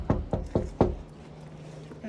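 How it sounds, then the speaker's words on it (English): Four firm knocks on a door in quick succession, close and distinct, during a snowy food delivery in New York, followed by quiet. "so I'll just knock on the door"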